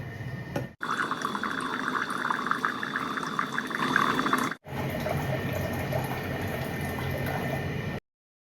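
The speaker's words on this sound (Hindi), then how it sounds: "तो चावल के लिए मुझे पानी चाहिए।" Water streams from a tap into a cooking pot for rice, a steady filling gush that stops briefly twice and resumes, with no one talking.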